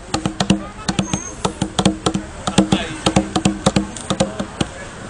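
A handmade drum, held in a particular way, is struck in a quick, uneven stream of crisp taps, played close over a light background hiss.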